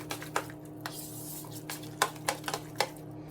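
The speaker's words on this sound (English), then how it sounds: "We have our chia pudding, which has been sitting overnight, so it's super thick. I just give it a stir." A spoon stirs thick overnight chia pudding in a bowl, making soft wet clicks and scrapes in an irregular rhythm, quiet and close over a steady background hum.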